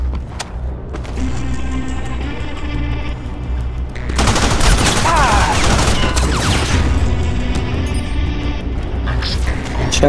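Rapid popping bursts of fireworks in the video game Crysis crackle loudly over a steady engine-like rumble, a dense volley of bangs lasting several seconds before easing off.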